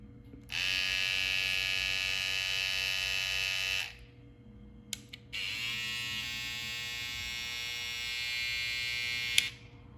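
BaBylissPRO Skeleton FX rose gold cordless hair trimmer buzzes steadily for about three seconds, stops briefly, then runs again at a constant high-pitched whine; close and fairly quiet.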